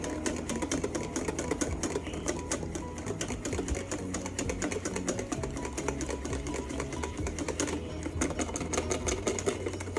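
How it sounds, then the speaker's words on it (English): Egg yolks whisked in a bowl over the fire for eggs Benedict, a fast, steady metallic clatter of whisk against bowl running unbroken and fairly close throughout. "Haven't stopped whisking once."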